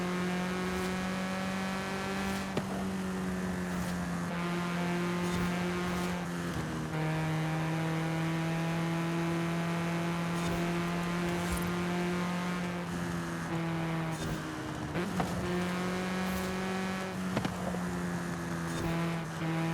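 Steady, loud car engine in Forza Horizon 5, held at a sustained high-revving drone with brief shifts and dips in pitch across the stretch and no talk.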